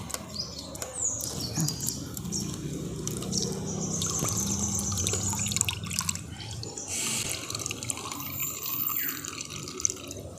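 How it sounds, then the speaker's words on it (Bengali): Flattened rice (chira) being washed and squeezed by hand in a strainer under running water, with a steady close wash of splashing, trickling and dripping and occasional sharper knocks. "চিড়েটাকে আমি খুব ভালো করে এইভাবে হাত দিয়ে চটকে চটকে ধুয়ে নিচ্ছি ছাঁকড়ির মধ্যে থেকে"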